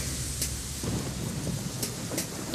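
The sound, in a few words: rain and thunder in Metal Gear Solid 2 video game footage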